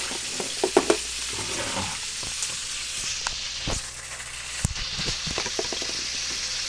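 Food frying and sizzling in a pan during home cooking, with a steady hiss punctuated by scattered clicks and stirring knocks, close and moderately loud, no voices.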